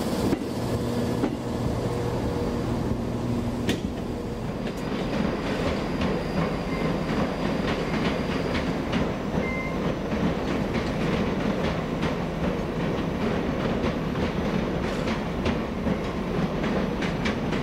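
A four-coach cross-country passenger train rolls along the rails at a station, producing a loud, continuous rumble with rhythmic wheel clatter and brief squeals, close by and without speech.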